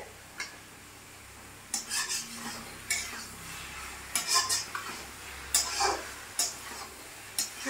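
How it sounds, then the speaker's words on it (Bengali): Spice paste with Kashmiri chilli powder and brinjal is stirred in a pan, giving sparse scraping clinks of a spoon against metal every second or so over a quiet, faint background with only a light sizzle. "এবার ভালো করে মশলাটাকে এভাবে একটু কষিয়ে নিতে হবে।"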